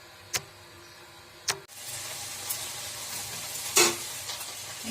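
Water spinach curry with lentil dumplings simmers in a pan, a steady soft sizzle with a few sharp clicks and knocks, one louder rattle near the end, heard close with no voices.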